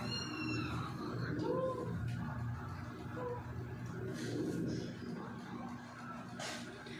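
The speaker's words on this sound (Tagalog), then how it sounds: "Ayan o, pusa pinaglalaroan nila." A kitten mewing several times while being played with, small high cries spread across a few seconds over a steady background hum, with faint voices in the room.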